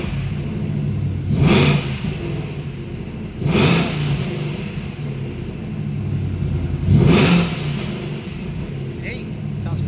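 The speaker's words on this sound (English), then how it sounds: "let's give it a couple of revs." A 2019 Mustang with long-tube headers and a stock catback revving three times, each a short rising blip over an idle, heard from nearby with a little speech around.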